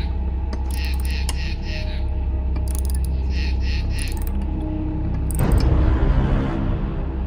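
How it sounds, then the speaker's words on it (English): Screws being loosened on a robot's waist as it is dismantled, a mechanical effect of repeated ratcheting clicks and grinding gear-like whirs with a louder surge near the end, over a steady low rumble. "I began loosening the screws fixed on his waist."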